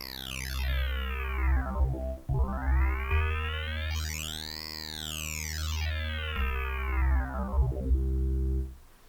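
Synth pad from the Thorn plugin played through its harmonic filter, a sustained chord whose bright comb-like partials sweep up and down in repeated arcs across about nine seconds, loud and steady with no voices.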